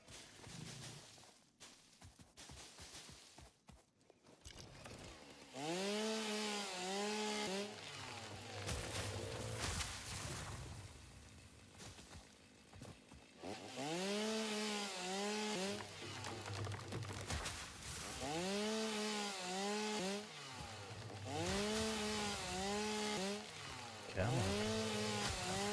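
A chainsaw in the factory-building game Satisfactory revs repeatedly in rising, wavering whines, cutting in and out over roughly twenty seconds amid background game noise.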